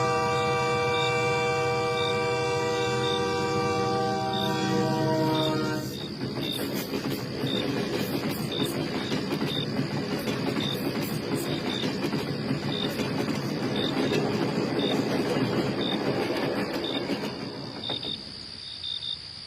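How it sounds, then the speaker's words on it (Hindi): A cartoon night scene of the last train of the night arriving at a station, its horn sounding from afar, then a loud, steady clickety-clack rumble over chirping crickets that fades near the end. "तभी दूर से एक हॉर्न सुनाई देता है। लगता है आज रात का आखिरी ट्रेन आ रहा है।"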